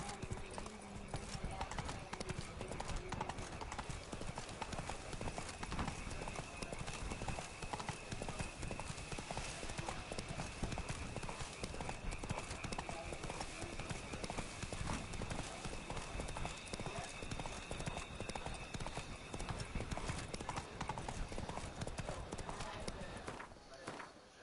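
Roach, the horse in the Witcher 3 Blood and Wine game, gallops steadily throughout, with dense, rhythmic clip-clopping hooves and a faint whinny under occasional talk.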